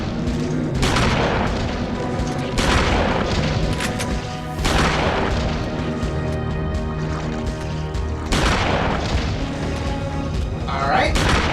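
Shotgun blasts fired at zombies in the Eternal Darkness: Sanity's Requiem video game, four heavy booming shots spaced a couple of seconds apart, loud and close, each ringing out over a dense musical game soundtrack.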